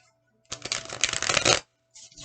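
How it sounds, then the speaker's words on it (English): A deck of thick-cardstock Nightmare Before Christmas tarot cards is bridge shuffled in one burst of rapid, crisp riffling, close up, followed by a brief second flutter as the cards settle. "So it absolutely can be shuffled with the traditional bridge."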